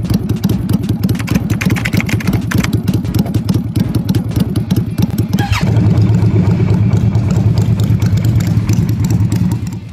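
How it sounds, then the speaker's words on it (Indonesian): A Benda Napoleon Bob 250 motorcycle with a 249cc four-stroke V-twin, 8-valve SOHC engine, running steadily with a deep, rumbling, bassy idle that throbs evenly throughout. It swells slightly louder partway through. "motor ini menyimpan mesin 249cc V-twin, 4 tak, 8 valve, dan SOHC"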